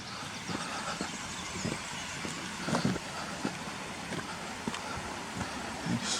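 A car climbs a steep bank on a rough track at Kershope Burn near Newcastleton, its engine a faint, distant drone mixed with wind noise and occasional bumps.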